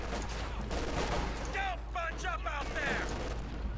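Bursts of MG42 machine gun fire in a Company of Heroes 2 battle, aimed at the front armor of an enemy tank, rattling repeatedly through a steady layer of battle noise, with whistling tones and a voice talking over it.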